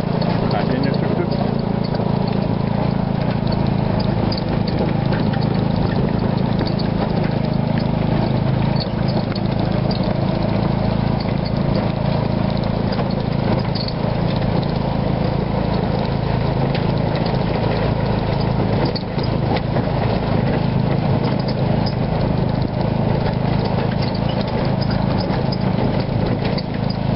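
A tuk-tuk engine drones continuously in Vietnam, a steady mid-pitched motor roar with road rumble that stays loud and unbroken throughout the ride.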